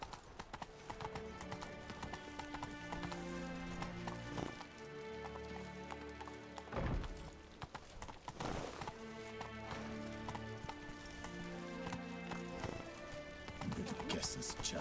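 Roach, Geralt's horse in The Witcher 3: Blood and Wine on PS4, gallops with a fast rhythmic clip-clop of hooves under game music, with a brief whinny and some talk in places.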